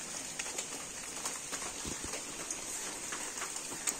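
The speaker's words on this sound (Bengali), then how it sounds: "তো বৃষ্টি এখনো পড়ে যাচ্ছে" Rain falls steadily outdoors after a storm, a soft continuous patter with a few closer drips and faint bird calls in the background; no one speaks.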